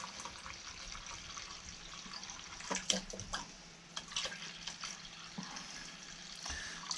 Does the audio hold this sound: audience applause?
no